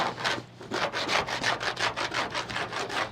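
Rhythmic back-and-forth scraping strokes as stripped original paint is taken off body panels during body work, about a dozen rasping passes close and fairly loud.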